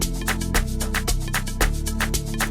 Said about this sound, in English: I made a melody up of log drums.